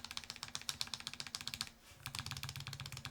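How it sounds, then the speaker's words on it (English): Rapid, even clicks from the spacebar of a Chosfox VERO75 low-profile keyboard being pressed over and over, a close, crisp clatter that stops briefly for a short pause and then starts again. "The spacebar actually sounds like"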